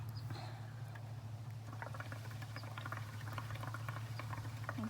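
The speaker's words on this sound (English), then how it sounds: "all you're going to do is you're going to blow bubbles with the straw." Blowing through a straw into soapy colored water for bubble art, soft bubbling and gurgling with patters of popping bubbles, faint and close over a low steady hum.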